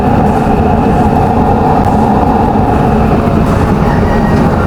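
A used-oil burner stove at setting 5 roars with a loud, steady, broadband flame blast that holds unbroken and close throughout, with no voices.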